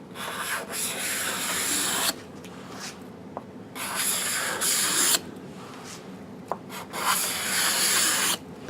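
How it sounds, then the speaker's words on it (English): Wooden bathroom shelves hand-sanded with 220 grit sandpaper, several long rhythmic rubbing strokes close up, separated by brief pauses and a few small knocks, with no talking. "followed up with a light pass of some 220 grit sandpaper"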